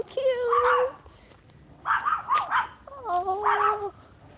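Small dogs bark and yip in three short, high-pitched bursts nearby, with brief pauses between them.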